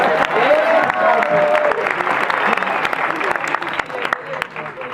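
An audience at a seminar session on Chernobyl applauds, a dense wash of clapping that fades somewhat toward the end, with a voice briefly audible over it.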